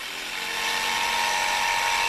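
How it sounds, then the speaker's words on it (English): A steady high-pitched power drill whine boring an access hole in wood, loud and continuous, with the motor tone holding level throughout. "Drill an access hole for the saw blade"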